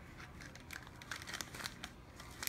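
Plastic bag crinkling and rustling close by as a saliva sample tube from a 23andMe ancestry kit is slipped inside, a steady run of small crackles with a few sharper crinkles.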